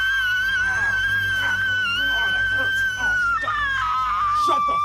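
A woman screams in the horror film Ogroff, a sustained, piercing wail that wavers and breaks into sobbing cries, heard loud and close with some voices underneath.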